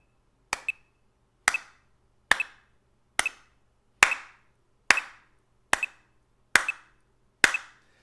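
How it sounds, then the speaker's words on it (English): A metronome set to 70 bpm clicks alone in a quiet room, nine sharp, evenly spaced ticks with nothing else heard. "So I have my metronome here at 70."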